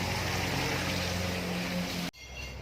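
Water runs steadily beside a waterfall on its way toward a fish pond, a loud continuous rushing wash that stops abruptly near the end, leaving only a faint hum.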